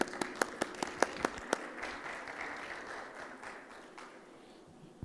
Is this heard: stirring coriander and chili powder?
no